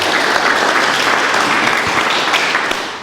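Steady, dense audience applause from a conference crowd honoring a speaker on operations technology, loud and sustained throughout, tapering slightly at the very end with no talk over it.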